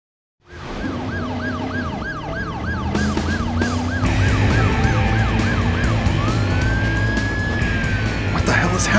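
Ambulance siren in the video game Driver: San Francisco, a loud close wail cycling rapidly, then switching to a longer rising and falling tone over engine roar, starting abruptly after a short silence.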